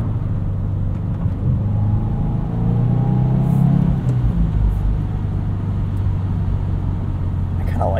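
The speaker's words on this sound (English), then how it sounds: "it makes Subaru boxer engine noises" A low, steady boxer engine rumble with a throaty burble from a 2022 Subaru WRX with a six-speed manual, rising slightly in the middle as the car accelerates, heard from inside the vehicle.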